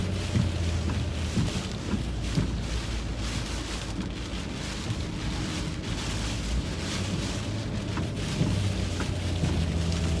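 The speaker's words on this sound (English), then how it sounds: "Got stronger winds, stronger rain." Heavy rain lashes a vehicle driving through a tornado-warned storm core in Arkansas, a dense continuous roar with low rumbling, wind buffeting, and occasional sharp impacts.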